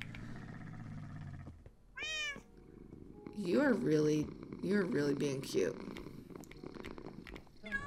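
A pet cat with no name meows repeatedly in clear rising calls, with a soft purr underneath, close to the mic, while a person talks to it affectionately between the meows.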